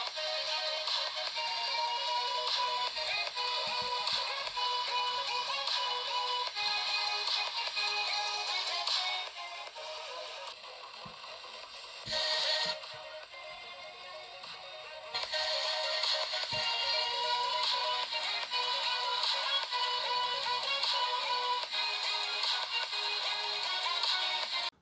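Music playing through a Vernee Mix 2 phone speaker, bright and tinny with no bass, continuous and fairly loud, briefly dipping partway through.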